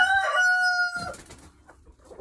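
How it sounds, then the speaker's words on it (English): A rooster crows loudly and close in a barn with chickens, one long clear call followed by softer clucking and scattered hen noises. "enjoying the sounds of the barn with the chickens"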